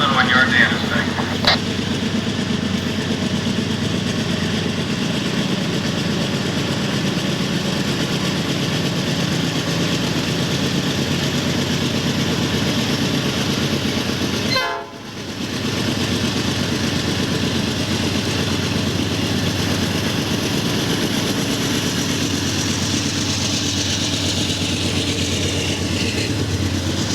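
Freight train 36A's locomotive idling in the Eastland 1 yard in Pennsylvania: a steady low diesel rumble that holds throughout, briefly dipping midway, with a faint radio-like click or two near the start.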